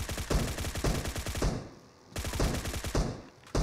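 Rapid automatic gunfire from a battle royale shooter video game, two dense bursts of repeated shots separated by a short pause, loud and close with no talk over it.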